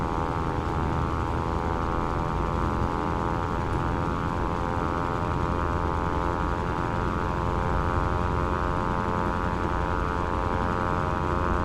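A simulated Dash 8 turboprop taxies in a flight sim with a steady, droning propeller whine and engine rumble, loud and unbroken throughout, with no voices.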